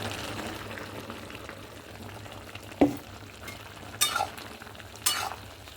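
Malabar spinach curry with mustard paste being stirred in a pan, a low continuous simmering sizzle with a spatula clank partway through and a few bright metallic scrapes near the end.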